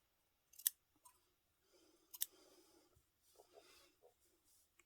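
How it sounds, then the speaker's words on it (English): Quiet, close scissor snips cutting yarn: a couple of crisp cuts with soft rustling and small handling noises in between. "Take our scissors and snip, snip."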